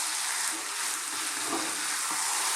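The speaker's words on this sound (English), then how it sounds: "I'm going to add my tomatoes, those fresh chopped tomatoes" Fresh chopped tomatoes hitting a hot curry pan for a chicken lentil curry give a loud, continuous close-up sizzle and hiss with faint stirring scrapes.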